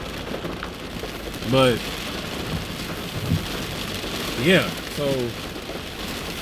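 Steady heavy rain pours down during an outdoor sermon, a dense continuous hiss with occasional faint bird chirps, while someone speaks briefly over it.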